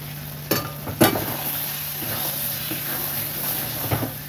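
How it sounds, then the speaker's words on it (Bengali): Red crab curry cooks with ghee, garam masala and green chillies; two sharp spoon scrapes open a short stir over a constant soft sizzle and hiss, with no talking. "দিয়ে এবার নেড়ে দেব"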